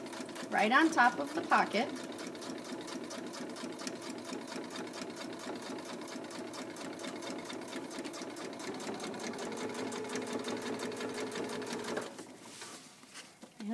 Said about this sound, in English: So I'm sewing right next to the edge of my webbing.